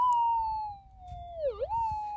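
Metal detector tone passing over a gold nugget, a steady electronic hum that dips down in pitch and then rises back up, clear and alone over faint background noise.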